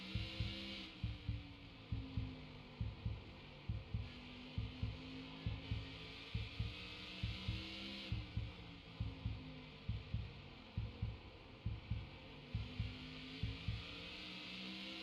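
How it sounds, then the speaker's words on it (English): A heartbeat sound effect from a driver's in-car camera during a modified series league race at South Boston, steady thumping pulses at a regular rhythm under a constant engine drone, with no talk. "Can you hear his heartbeat?"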